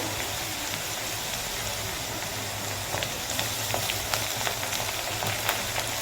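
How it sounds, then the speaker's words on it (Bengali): Onion and garlic fry in a pan with a steady, close sizzling hiss that runs throughout, with a few faint clicks of stirring toward the end. "তো দেখুন পেঁয়াজটা আর রসুনটা ফ্রাই হয়ে গেছে"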